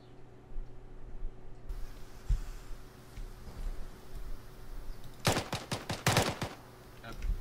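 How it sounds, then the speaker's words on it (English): Rapid bursts of automatic gunfire from an ARMA 3 firefight crack out in a tight cluster near the end, several sharp shots in quick succession after a stretch of low steady background hum, with one fainter isolated pop earlier on. "You might want to tell them to stop shooting you, dude."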